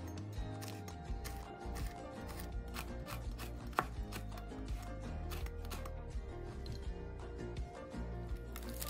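A knife slices a seeded red chili into thin strips on a cutting board in quick, regular taps, with soft background music underneath.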